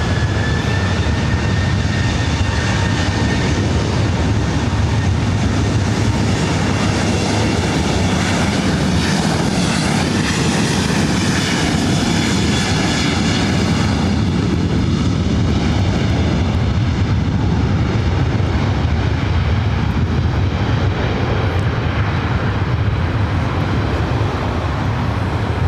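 Airliner taking off from runway 24 right at LAX, a loud, sustained jet engine roar that holds steady throughout with a rising whine, heard from nearby without any talk.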